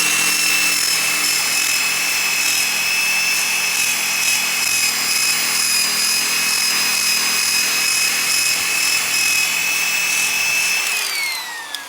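A power polisher buffing a scratch out of car paint, running as a loud, steady whine that holds constant and drops slightly as it shuts down at the end.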